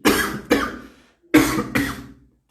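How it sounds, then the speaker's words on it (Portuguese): A person coughs in two pairs of sharp, close, loud coughs with a short pause between the pairs, and no talking is heard. "Hoje tô tossindo muito hoje"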